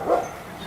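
A single short dog bark near a dog pen at a family home, a brief, moderately loud burst that fades into quiet background.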